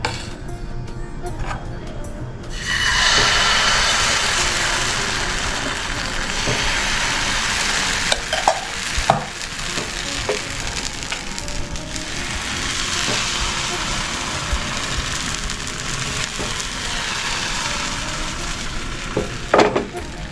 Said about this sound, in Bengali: এবার অল্প অল্প করে ব্যাটার আমি এখানে দেবো, আর একটা করে পিঠে আমি ভাজবো।